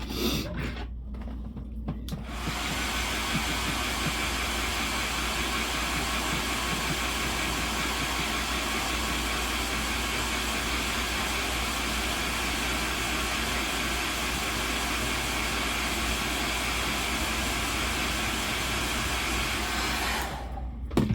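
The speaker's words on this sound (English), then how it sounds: "All right, let me blow dry these." A hair dryer starts after a brief rustle and blows steadily and loudly at close range for about eighteen seconds before switching off.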